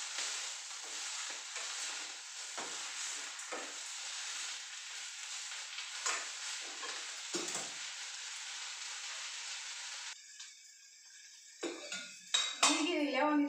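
Food fries in oil in a pan with a steady hiss and occasional stirring scrapes, then the sizzle drops away and a voice speaks over clinking utensils toward the end.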